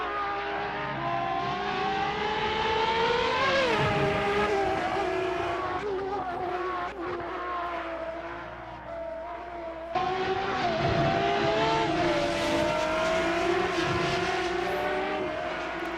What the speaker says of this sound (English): The engine sounds, they come together pretty nicely.